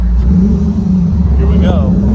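A 1986 Jeep CJ7 with a 6.0 LS V8 on 37-inch tires pulling onto a highway, its engine a loud, heavy continuous low roar heard from inside the cab, with people talking over it.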